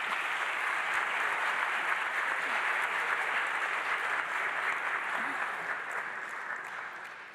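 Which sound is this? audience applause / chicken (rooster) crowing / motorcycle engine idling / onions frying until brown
audience applause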